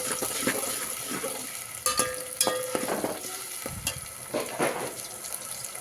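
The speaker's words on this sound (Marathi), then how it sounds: "लाल होईपर्यंत हलवून घ्यायचं त्याला" Goat mutton masala of onion, garlic, tomato and turmeric frying in a pan, stirred with a spoon: continuous sizzle broken by repeated scraping and clanking strokes against the pan, close and without talk.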